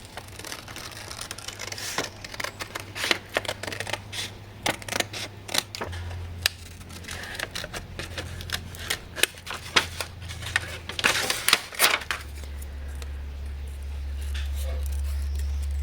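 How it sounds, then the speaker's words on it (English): Scissors cutting paper hearts from paper and cardboard, a run of close, crisp snips and rustles in uneven bursts over a low steady hum. "So I'm just going to quickly cut myself some hearts"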